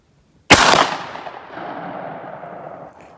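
A 12 gauge shotgun fires a single Fury slug outdoors at a shooting range: one sharp, loud blast after a moment of silence, followed by a long rolling echo that fades away.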